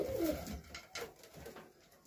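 A pigeon coos on a roof, a few soft low-pitched calls close by over faint outdoor background noise, with no one talking.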